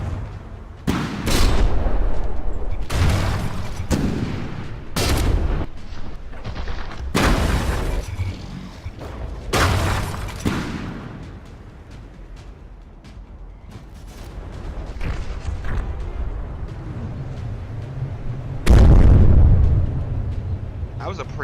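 Heavy booming blasts of ship ammunition magazines detonating in the naval combat game From the Depths, a run of loud explosions in bursts with rumbling decay between them, while a voice talks over the action.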